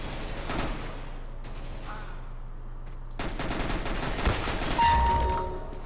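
Dense automatic gunfire bursts rapidly in an Arms Race match of a video game, with fusillades near and close, pausing briefly between volleys, and a single tonal game cue near the end.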